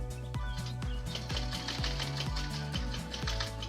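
A sewing machine stitches a backpack top handle with quick regular thumps in a rapid rhythm, close and moderately quiet.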